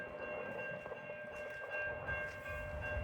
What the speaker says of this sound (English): Milwaukee North train number 2125 to Fox Lake is now arriving.